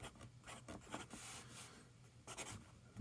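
TWSBI Eco fountain pen with a fine nib writing on paper: faint, close scratchy strokes in quick, uneven short bursts over a few seconds.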